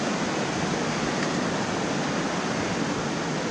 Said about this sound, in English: lovely sound of running water